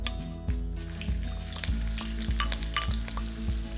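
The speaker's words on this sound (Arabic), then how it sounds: "وبعد ما يسخن الزيت شوي نبدأ نحط البصل" Onions sizzling and frying in hot healthy oil, a steady loud crackle with rhythmic scraping and stirring strokes roughly every half second over a low continuous hum.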